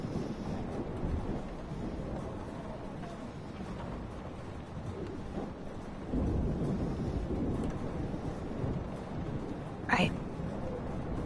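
Thunderstorm in the video game Life Is Strange Remastered: a steady wash of rain and rumbling storm noise throughout, swelling louder after six seconds, with a short sharp crack near the end.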